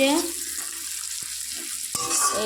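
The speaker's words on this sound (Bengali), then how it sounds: "আলু পেঁয়াজ আর লঙ্কাটা ভাজছি" Potatoes, onions and chillies frying in a little oil in a home kitchen, a soft continuous sizzle with a couple of brief stirring knocks.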